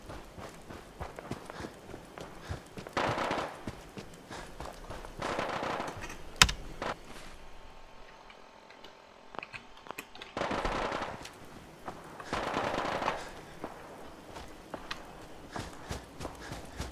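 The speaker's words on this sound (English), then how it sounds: "lots and lots of indefinite gunfire." Rapid bursts of automatic gunfire crackle repeatedly in the distance, with short lulls between volleys and faint clicking underneath, in the video game Fallout 4.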